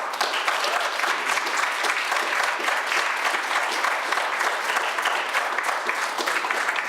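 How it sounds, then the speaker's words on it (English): Sustained applause from an audience at a town hall meeting on income security reform, a dense, steady wash of clapping that holds evenly throughout without any voices rising above it. "first a big round of applause"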